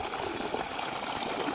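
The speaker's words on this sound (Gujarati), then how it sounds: "આ જો અહીંથી પાણી જાય છે." Water gushes steadily out of a well pipe on a village farm, a continuous close rushing flow with no break and no voices.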